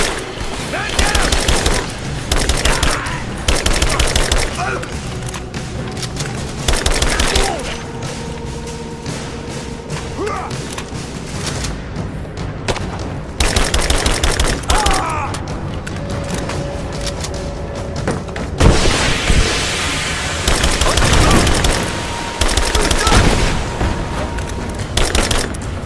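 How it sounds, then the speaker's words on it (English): Rapid gunfire from the video game Rise of the Tomb Raider rattles in dense, loud bursts almost without pause, with heavy booms and thuds mixed into the steady barrage. "Open fire! Give me covering fire! Taking fire!"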